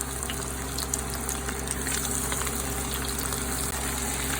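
Battered shrimp coated in a crushed ramen cornmeal-style batter drop into hot frying grease, giving a loud, steady, dense sizzle and crackle that holds evenly throughout with no talking.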